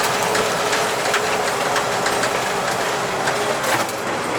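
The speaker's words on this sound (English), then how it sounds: "I should be able to plow the rest of this road out here" An AWD GMC C7000 dump truck plows ice and sleet off a road, with a constant loud rumble of the engine mixed with the harsh scraping and crunching of the plow blade.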